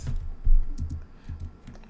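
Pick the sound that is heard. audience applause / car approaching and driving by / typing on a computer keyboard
typing on a computer keyboard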